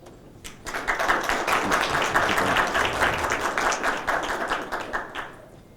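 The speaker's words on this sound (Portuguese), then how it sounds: "a quem peço palmas" Audience at a panel on internet-of-things taxation breaks into applause for a federal deputy, a dense, even wash of many hands clapping that swells quickly and holds steady before tapering off.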